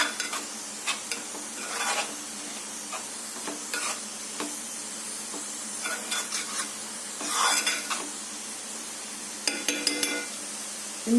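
Chili powder being stirred into amaranth leaves frying in a pan, with a steady sizzle under repeated scraping and clinking of a spoon against the pan, close and moderately loud, no talking.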